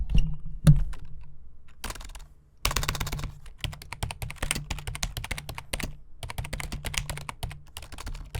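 Rapid, irregular clicking of a computer keyboard being typed on, close up, with brief pauses between bursts of keystrokes.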